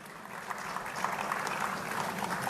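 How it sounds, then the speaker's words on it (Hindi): Audience at a Gwalior cleanliness awards ceremony clapping: faint, continuous applause with a diffuse crowd wash and no distinct single claps. "आपकी ये तालियों की गड़गड़ाहट"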